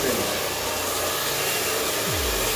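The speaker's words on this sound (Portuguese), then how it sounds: "pode secar bem, bem mesmo, é o secador mais forte que você tem" A strong hair dryer blows steadily at close range while a man's hair is brushed straight back during a haircut, a loud continuous whoosh that holds unbroken from start to finish.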